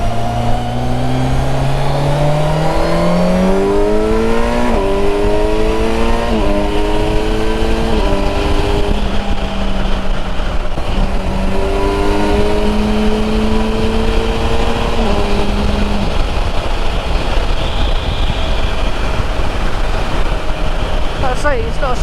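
A 2020 Kawasaki Versys 1000 SE motorcycle accelerates hard with quick-shifted gear changes. Its loud, close induction roar climbs in pitch repeatedly, with each rise cut off by a crisp shift and then building again.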